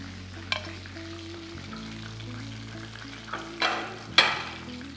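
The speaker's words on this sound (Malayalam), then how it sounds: "ബാക്കിയുള്ള പീസസ് ഇതുപോലെ ഫ്രൈ ചെയ്തെടുക്കുക." Chicken pieces deep frying in hot oil for crispy fried chicken give a steady bubbling sizzle up close, with a few sharp clatters and bursts of spatter as pieces are moved.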